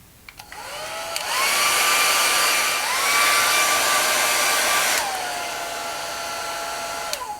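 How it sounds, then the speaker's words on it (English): A handheld hair dryer blows on fabric paper, a loud steady whir that starts after a couple of clicks, dips slightly in pitch as it is angled beneath the piece, and runs unbroken for several seconds. "I'm going to get the dryer underneath this so that it starts to really separate and dry the bottom of it."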